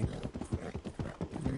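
Quick, rhythmic clip-clop of a video game horse's hooves at a steady trot, moderately close, with no talking.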